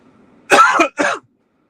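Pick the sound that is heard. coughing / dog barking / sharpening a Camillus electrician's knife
coughing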